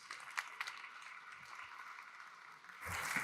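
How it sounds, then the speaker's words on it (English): Hackathon finalist greeted by audience applause at a closing ceremony, a steady moderate clapping wash with a few sharper claps, swelling louder near the end. "Please give them a big round of applause."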